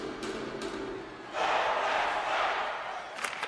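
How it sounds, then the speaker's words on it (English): A crowd in an ice hockey video game swells into a loud, sustained roar of cheering after a quieter opening, with a sharp thump near the end. "You can feel the energy in this crowd."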